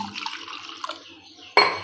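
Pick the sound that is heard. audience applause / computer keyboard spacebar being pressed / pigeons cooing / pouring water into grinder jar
pouring water into grinder jar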